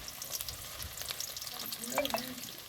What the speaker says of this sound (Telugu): ఉల్లిగడ్డలు కూడా వేసుకుందామండి